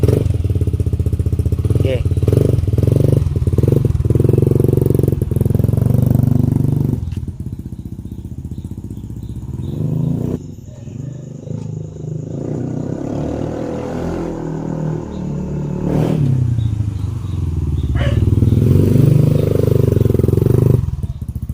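A Yamaha Nmax scooter fitted with a replacement BK30 ECU runs on a test ride, its engine droning loudly, easing off into a quieter stretch midway, then building back up and fading again.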